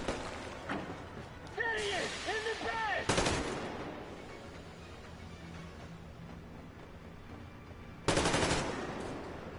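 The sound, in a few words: gunfire in the video game Metro: Exodus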